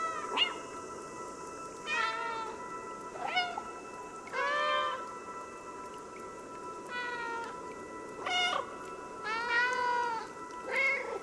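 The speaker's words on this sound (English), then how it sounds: "There's a meow button." Repeated cat meows from the video game Stray, about eight short wavering calls spaced irregularly over a quiet background, clear and fairly close.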